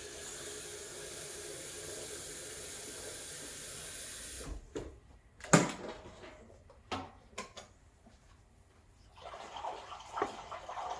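Water hisses and gurgles as it is poured into a Breville Oracle BES980 espresso machine, a steady rushing pour that stops, followed by quiet clicks, clunks and faint handling sounds close by.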